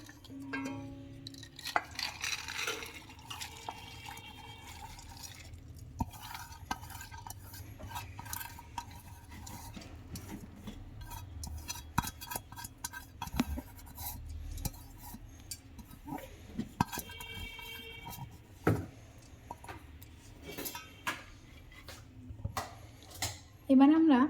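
Washed toor and chana dal lentils are tipped into a pressure cooker, giving scattered clinks, scrapes and rattles of metal utensils over a steady low hum, with a sharper knock near the end.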